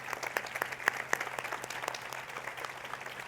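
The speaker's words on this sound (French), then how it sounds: "Y todos los jóvenes podemos aplaudirles" A church congregation applauds during a bilingual service, a steady patter of many hands clapping throughout at moderate volume, without speech.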